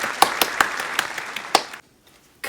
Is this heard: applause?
yes